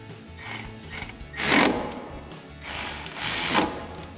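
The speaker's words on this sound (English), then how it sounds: "we'll tighten them down using our 13mm socket" Ratcheting 13mm socket wrench tightening brake caliper bolts on a 2005-2010 Ford Mustang during a brake rotor and pad install, a few short close metallic bursts of ratchet clicks with brief pauses between.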